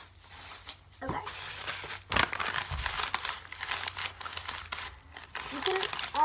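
Plastic bags, used as filling for a homemade paper squishy, are crumpled and crinkled by hand in bursts of crackling rustle with a few sharper crackles, close and fairly quiet, while a person talks.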